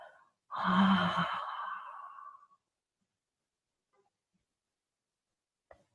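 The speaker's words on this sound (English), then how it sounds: "Just a soft inhale through the nose, and on the exhale, a gentle" A single soft, drawn-out exhale through the nose in yoga pranayama breathing, close and gentle, fading over about two seconds, followed by near silence.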